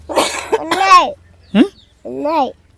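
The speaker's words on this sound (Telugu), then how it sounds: "దగ్గు వచ్చిందే" A child coughs a couple of times close to the microphone, with short bursts of a young voice in between.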